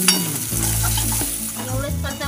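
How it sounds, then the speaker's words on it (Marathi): Capsicum being sautéed in a pan while making manchurian, with steady sizzling and scraping stirs running close and loud throughout, no voices over it. "शिमला मिरची थोडी परतवू"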